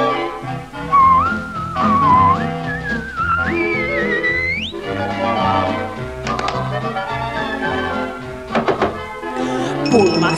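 Melodic whistling from a Finnish-language Pinocchio song on a 1985 Disney musical story record, heard as a bright, loud whistled tune over an orchestral accompaniment with percussive taps, continuing with few pauses.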